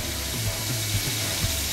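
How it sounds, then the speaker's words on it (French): A big drill breaking rocks in a Paw Patrol video game, heard as a steady mechanical ratcheting whir with a few brief low thumps, close and alone. "Perceuse, déplace ceci pour positionner la perceuse."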